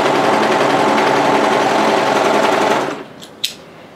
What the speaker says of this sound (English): what I'm going to do is just overlock and then plain stitch that into place